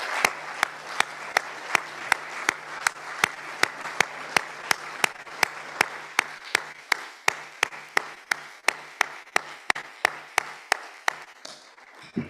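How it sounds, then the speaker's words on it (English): Audience applause at the closing session of a regional land forum, a steady run of loud, crisp claps filling a hall for about twelve seconds before tapering off. "please rise with me and give them the round of applause they truly deserve"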